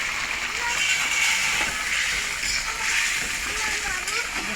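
Water splashes and sloshes in a steady broadband wash through the whole stretch, fairly close, with voices talking over it in a home kitchen.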